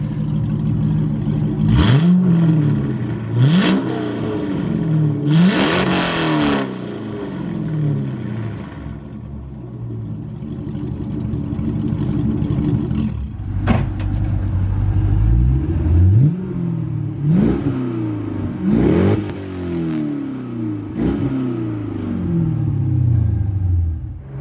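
A C5 Corvette with a 5.7L LS1 V8 and its mufflers cut off revs repeatedly, loud and close, with sharp throttle blips rising and falling over a deep rumbling idle.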